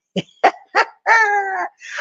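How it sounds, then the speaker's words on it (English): A dog barks close and loud, three short sharp barks followed by a longer, drawn-out whining howl and a final brief yelp. "A dog in heat, yeah, man."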